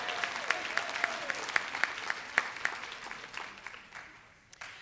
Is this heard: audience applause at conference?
yes